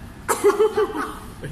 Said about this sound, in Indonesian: aku batuk dulu